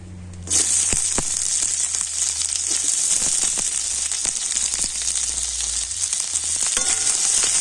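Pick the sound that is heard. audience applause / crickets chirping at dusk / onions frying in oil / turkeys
onions frying in oil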